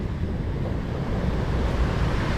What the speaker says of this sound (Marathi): इथं छोटासा धबधबा आहे